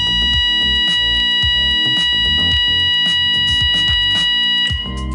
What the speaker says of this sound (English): There's also this alarm signal.